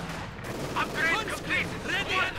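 MG42 machine gun fire in the Company of Heroes 2 strategy game, rattling as scattered bursts through a busy wartime soundscape while a voice talks over it.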